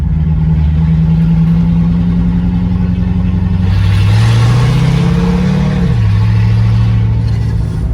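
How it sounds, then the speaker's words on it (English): A Mercedes 300SEL 6.3 V8 driving with no exhaust fitted, a loud raw engine roar heard close up, rising in pitch as it revs and then dropping back. "It's rather loud because it still doesn't have an exhaust on it."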